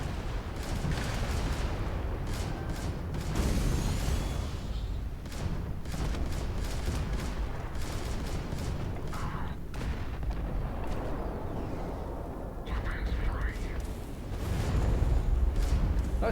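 Automated turrets open fire in the space game Terran Armada, a dense run of overlapping booming shots rumbling steadily for the whole stretch and swelling louder near the end.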